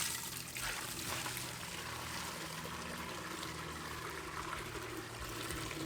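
Old fuel drains steadily out of an abandoned Ford Mustang GT as a continuous trickling, splashing pour with no break and no talking.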